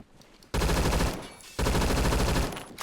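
Two loud, rapid bursts of automatic gunfire ring out in Roblox Phantom Forces, each a dense rattle of closely spaced shots lasting about a second, separated by a short lull.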